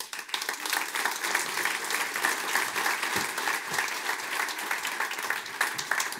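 A seated audience gives sustained, dense applause to welcome a speaker on stage at a talk event, with the clapping steady throughout and a few sharper individual claps standing out.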